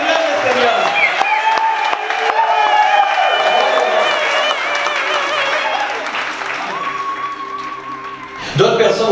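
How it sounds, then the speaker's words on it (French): A large church crowd cheers and applauds for Jesus Christ at a loud, sustained level, with whoops, many hands clapping, raised voices, and singing or a held tone near the end. "Et on va faire une méga acclamation pour Jésus-Christ."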